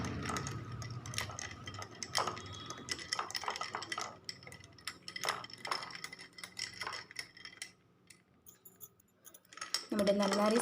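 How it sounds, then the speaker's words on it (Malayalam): A spoon stirs Nannari sarbath mixed with ice water in a glass, ice and metal clinking and scraping in quick irregular bursts, close and bright, with brief pauses and a louder clatter at the end. "ഇനി ഇതിലേക്ക് ഐസ് വാട്ടർ ഒഴിച്ചു കൊടുക്കാം. നന്നായിട്ടൊന്ന് ഇളക്കി കൊടുക്കാം."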